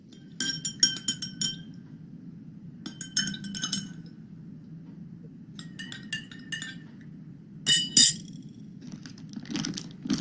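Glasses holding Betadine solution are stirred one after another, giving bright repeated clinks in short bursts separated by pauses, close and clear over a steady low room hum.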